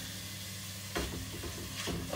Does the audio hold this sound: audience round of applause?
no